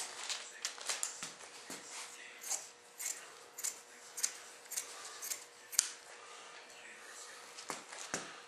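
Repeated sharp snips of scissors trimming small hard parts of a plastic F-105 Thunderchief model kit, crisp and close, in an irregular rhythm with quiet pauses between cuts.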